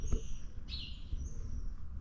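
Birds chirping outdoors near a farm, a few short high tweets and a brief call standing out faintly over low background rumble.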